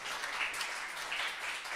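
Quiet applause from a small church congregation after a sung performance, a soft, brief patter of clapping heard at a distance.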